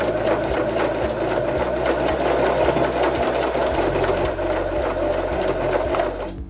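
A Janome 311 sewing machine stitches a hem, its motor and needle running in a steady, fast mechanical whir with regular ticking pulses, close and continuous throughout.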